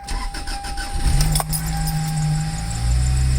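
A Toyota Celica GT-S fitted with a polyurethane front motor mount insert cranks briefly and fires up, then settles into a steady, fairly loud idle heard close by with no talking.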